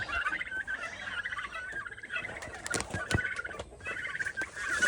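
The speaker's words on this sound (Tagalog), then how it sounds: "mga pabo pa ito dito" Several turkeys gobbling in bursts, overlapping and fairly close, with scattered clucks and shuffling noises between calls.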